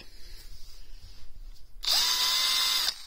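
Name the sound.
Titan 18V cordless drill driver running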